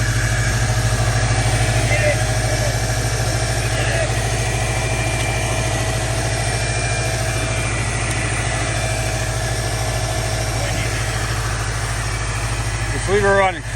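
A Ford 7.3 IDI diesel engine idles nearby with a loud, steady, rumbling clatter that holds throughout, while people talk over it.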